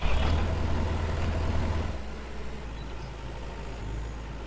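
A blue tractor engine runs in the Farmer's Dynasty farming video game, a low, steady rumble that eases slightly after the first two seconds and carries on alone.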